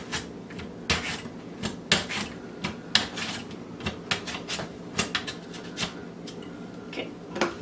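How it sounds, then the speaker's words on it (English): Green tomatoes are sliced on a mandolin slicer into quarter-inch slices, giving an irregular series of close, soft scraping swipes and small clicks and thuds with brief gaps between strokes. "I'm using this mandolin so I get nice even slices about 1/4 inch thick"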